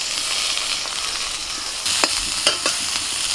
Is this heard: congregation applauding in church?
no